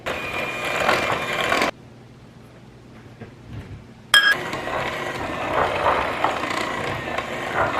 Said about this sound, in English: I have about 15 Oreos over here. I'm just going to crush those in the bowl.